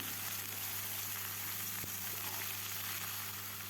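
Jackfruit pieces fry in hot oil in a wok with potato while being stirred, giving a steady, dense sizzle that holds evenly throughout without any voices.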